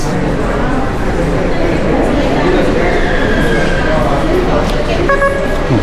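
A Mexico City metro train rumbles through a dark underground station, with steady rail and wheel noise beneath crowd chatter and people talking, and a brief high tonal squeal near the end.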